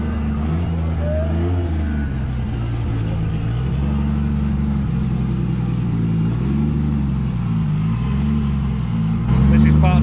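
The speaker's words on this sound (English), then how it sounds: "We've got a BMW drift car coming through here actually, which looks quite cool." BMW drift car passing at the Nürburgring, a steady loud engine drone with rising and falling revs throughout and a brief louder burst near the end.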